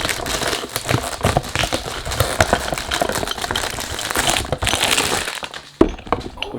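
Two glass fragrance bottles rattle and clink inside a cardboard box as it is shaken, giving several seconds of continuous close, crackly knocking ending in a sharper clink.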